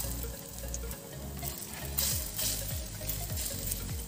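Batter sizzling in an unniyappam pan, a steady, moderately quiet frying hiss with a low rhythmic pulsing underneath and no talk.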